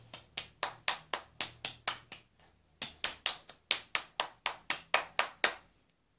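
Hands clap in a steady run of sharp, evenly spaced claps during a children's yoga game, pausing briefly partway before the rhythm resumes; no one speaks.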